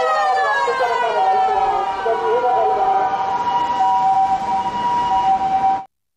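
A white toy ambulance plays its electronic siren, a loud wailing tone that holds steady for several seconds close by and then cuts off abruptly.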